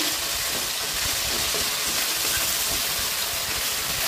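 Turmeric and salt spice mix sautéing in a pan, heard as a dense, even hiss that holds steady and loud throughout with no voices.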